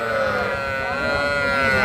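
A young calf at a cattle market gives a sustained, wavering bleat-like call, loud and close, with crowd noise murmuring underneath.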